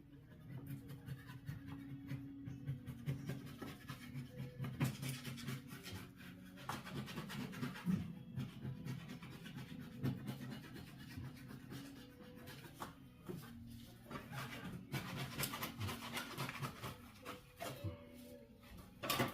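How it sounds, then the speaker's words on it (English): An old wallpaper sheet being worked off a wall with a blade slid underneath a seam, giving soft continuous scraping and rasping close by, with faint scattered rustles and no speech. "put your blade underneath, try to get a seam"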